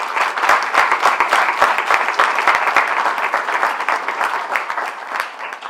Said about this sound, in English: give a round of applause to all of the scholarship sponsors that are still with us